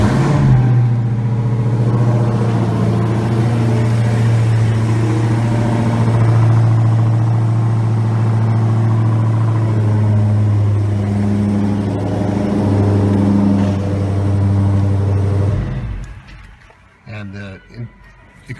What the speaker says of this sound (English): start the engine so we can hear the exhaust quickly